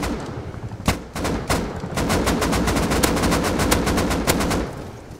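Missile and gunfire from a PvP fight in the video game Rust: rapid bursts of automatic fire with sharp repeated cracks, loud and near, firing almost continuously with a few heavier thumps.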